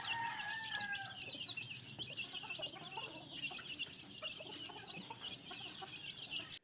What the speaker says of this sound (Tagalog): Ang kukulit ng mga sisiw.